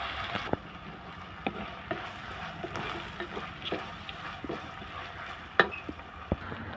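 Small shallots for a chicken gravy sauté in a pan, giving a soft, steady sizzle broken by scattered light taps and scrapes of a spoon.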